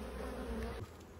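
Honeybees buzz at a hive during the unpacking of a swarm and its merging with a mite-damaged colony, a steady dense near drone that dips slightly toward the end.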